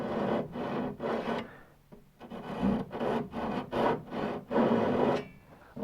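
A sharp chisel shaves a wooden deck beam joint for a small sailboat in a run of about ten light, rasping strokes. The scrapes come close and rhythmic, separated by short pauses, with a brief quieter gap partway through and no voices.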